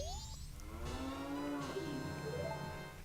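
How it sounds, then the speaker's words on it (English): Cattle in The Legend of Zelda: Majora's Mask give a long, smooth, tonal moo that rises and falls in pitch over about three seconds, loud and close, with no talking over it. "I forgot the cows have sexy lady voices."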